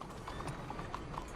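Horse hooves clip-clop in Red Dead Redemption 2, a brisk, regular run of hoof strikes close by, heard alone without talk.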